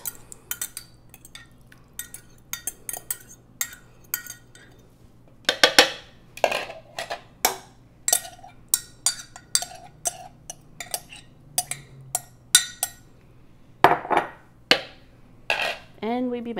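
A utensil mixes a chilled barley salad with tomato and mint in a bowl, giving repeated close clinks and scrapes in an uneven rhythm, with a brief louder clatter near the end.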